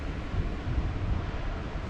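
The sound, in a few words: wind on a Cornwall clifftop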